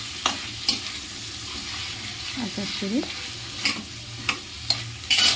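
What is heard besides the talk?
garlic frying in a pan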